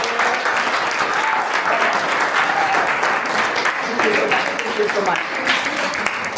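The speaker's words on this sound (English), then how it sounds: "Guys, clap the hand." An audience at a Grade 12 life sciences lesson applauds in a dense, steady wash of clapping for the whole stretch, while a voice speaks briefly over it.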